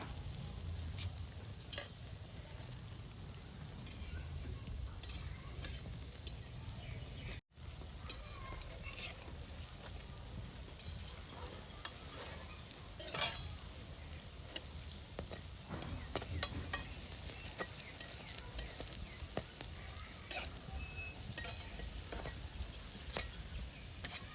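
Bread buns fry gently in oil over low heat on a village stove, giving a steady, close sizzle that runs the whole time with small crackles and a momentary dropout partway through.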